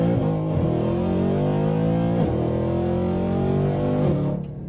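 A Mercedes W204 C63 507 Edition accelerates hard with wheels spinning, its engine climbing through rising revs in three quick upshifts, loud and close from inside the car, with no talking over it.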